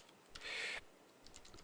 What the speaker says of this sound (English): go ahead and type like 5 random words like apples